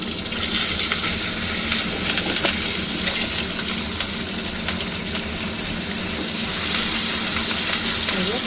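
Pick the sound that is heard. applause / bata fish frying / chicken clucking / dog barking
bata fish frying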